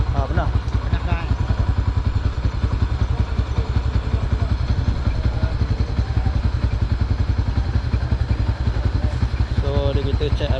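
A Yamaha Y15ZR motorcycle engine idles steadily and loudly up close with a rapid mechanical clatter after a throttle body service and K&N air filter change, with people talking over it.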